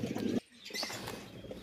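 Pigeons close by being given feed, a burst of wing flapping followed by soft cooing and rustling.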